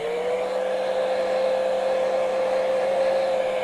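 A hair dryer blows on wet paint on a bear painting with a steady, loud, close whine that holds one even pitch throughout, alone without talk.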